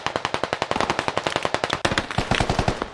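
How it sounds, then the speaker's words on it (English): Rapid automatic gunfire rattles at close range in a video game battle on the Grand Falls map, a dense string of sharp shots with a brief break near the middle. "That was a lot of gunfire from 10 meters away."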